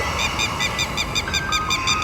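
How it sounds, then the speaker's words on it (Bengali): A dense chorus of many birds calls together among forest trees, with rapid, repeated honking and squawking notes layered over a loud, continuous background din. "গাছপালার ভেতর অসংখ্য পাখি একসঙ্গে ডেকে উঠল"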